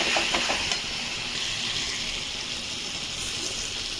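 Chitol fish muitha dumplings and fried potato sautéing in a hot pan: a steady, close hiss and sizzle of frying that keeps going at an even level.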